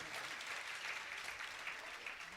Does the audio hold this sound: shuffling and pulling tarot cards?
no